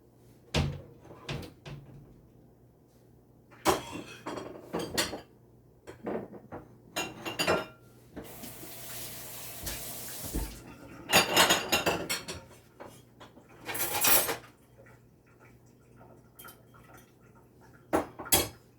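Kitchen handling sounds while fresh lemon juice is readied for a Mediterranean chickpea salad: a series of separate clattering knocks, clicks and brief sharper bursts with quiet gaps between, fairly close, with no talking.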